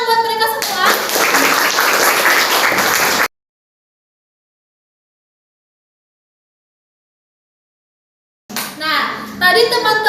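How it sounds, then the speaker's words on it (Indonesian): Children in a classroom lesson clap together in a brisk, dense burst that is cut off abruptly, followed by several seconds of silence before voices resume talking. "Tepuk tangan buat mereka semua."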